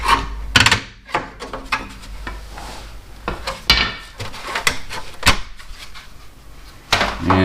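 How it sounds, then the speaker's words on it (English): Hubcap pried and pulled off a 2015 Toyota RAV4 LE rear wheel, with sharp plastic-and-metal clacks, scrapes and rattling knocks in bursts close by, no talking. "Let's take this hubcap off quick."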